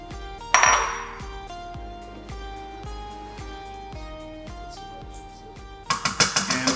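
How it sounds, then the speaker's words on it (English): Sweet potato pieces dropped into a pot of Azorean octopus stew, a clunk and splash near the start, then soft repeated knocks with a steady background hum and a cluster of clatters at the end. "So time to add the sweet potatoes"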